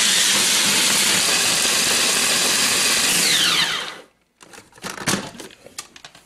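A food processor grinds Slim Jim meat sticks and peanuts with a loud, steady whirring roar, then cuts off abruptly, followed by a few scattered clatters and scrapes.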